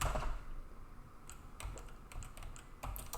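Rapid bursts of keystrokes on a computer keyboard while typing C code, clustered clicks with short pauses, close and fairly quiet, no voice.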